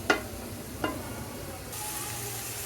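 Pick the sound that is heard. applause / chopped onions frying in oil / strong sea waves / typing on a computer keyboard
chopped onions frying in oil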